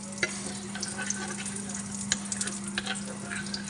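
Laham meat fries on a hot tawa, a steady close sizzle with scattered crackles and pops, while faint stirring sounds come through near the mic.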